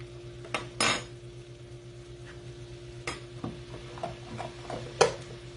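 A spoon scrapes and knocks against a pot as vegan cherry filling with Earth Balance butter is stirred, a few sharp clinks over a low simmering hiss, close and otherwise quiet with no talking.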